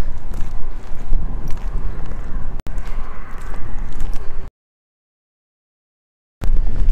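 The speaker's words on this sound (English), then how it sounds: "It's pretty windy." Loud, rough wind buffets the microphone outdoors in Charlottetown, PEI, a continuous roar broken by a brief dropout and a long silent gap before the gusting resumes.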